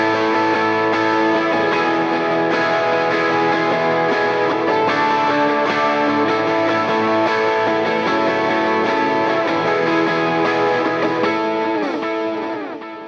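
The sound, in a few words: electric guitar high inversion chords over open chords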